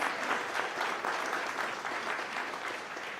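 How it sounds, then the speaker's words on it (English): Sustained applause from an audience at a Cherry Blossom Festival event in Washington, D.C., a dense, steady wash of many hands clapping throughout, fairly distant and even, with no voices standing out. "So please give Diana and her team a big round of applause"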